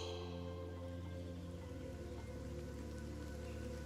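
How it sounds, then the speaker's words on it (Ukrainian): Steady, dense rain falling, a continuous broadband hiss with no pauses and no voices. "А зараз пішов дощ."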